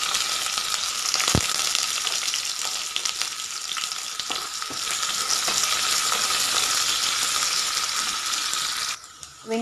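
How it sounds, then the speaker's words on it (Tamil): Chopped onion and two dried red chillies fry in hot oil for a bottle gourd stir-fry, giving a loud, steady sizzle throughout with a sharp clink early on and a brief dip near the end; no one speaks. "வெங்காயம் நல்லா வதங்கிடுச்சு"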